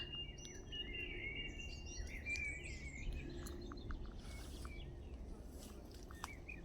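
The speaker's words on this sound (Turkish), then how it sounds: "kuş sesleri" Birds chirping and trilling outdoors at a moderate distance, several overlapping calls over a steady low hum of ambient noise.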